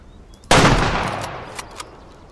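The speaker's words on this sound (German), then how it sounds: "Oh, der Schuss war gar nicht schlecht." One sharp, loud rifle shot in the hunting video game Way of the Hunter cracks out and rolls into a long echoing decay, followed by two faint clicks.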